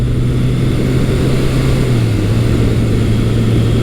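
A Kawasaki motorcycle engine, either a vintage KZ1000 or a modern Versys 1000 LT, pulls lazily out of a corner at around 2,000 RPM with a loud, steady low drone under wind noise.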